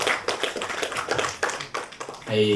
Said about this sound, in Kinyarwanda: Mwakongera amashyi ijambo ryiza.